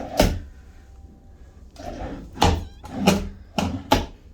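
Cabinet drawers in a cruise ship veranda stateroom bathroom open and close several times, giving a series of sharp knocks and sliding thumps, close and fairly loud, with quiet gaps between them and no talking.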